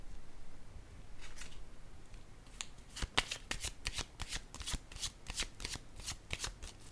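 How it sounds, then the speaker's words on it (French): Playing cards are shuffled and handled from a deck, with soft rustling that gives way to a quick series of crisp riffling flicks, close and fairly quiet. "Attendez, je vais piger une carte sur les enfants."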